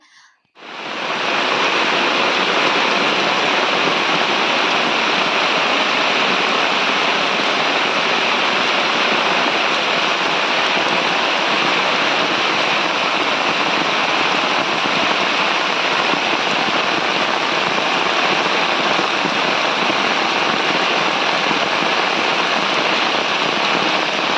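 Steady, loud rush of monsoon rainwater pouring downhill and flooding a house yard, continuous and unbroken throughout with no voices.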